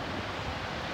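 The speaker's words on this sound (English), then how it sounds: "Two waterfalls." Twin waterfalls at Carrington Falls in New South Wales, Australia, a dense constant roar of falling water heard from a distance, unbroken through the brief moment.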